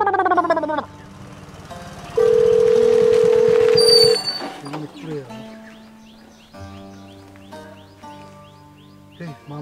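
A telephone call: short dialing tones, then a long steady electronic tone, followed by brief beeps with speech-like sounds around them.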